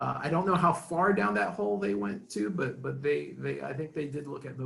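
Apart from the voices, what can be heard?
No everyday noise stands out behind the speech.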